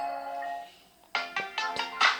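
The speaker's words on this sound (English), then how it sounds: "here you can select the alarm sound" Alarm tone from a Samsung Galaxy A15 5G phone, a soft sustained tone followed by four bright, quick chime notes in a rising pattern, close and clear.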